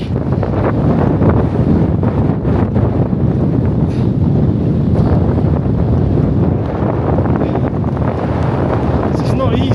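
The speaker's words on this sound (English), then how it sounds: "You got wind as well, quite strong wind." Strong wind on Rainbow Mountain in Peru buffets the microphone with a constant loud roar and rumble that lasts the whole stretch without letting up.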